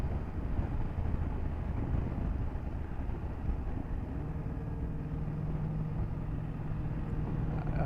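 A 2024 BMW F 800 GS motorcycle is ridden in third gear through small turns, its engine a steady low drone blended with constant wind rush, with no talking.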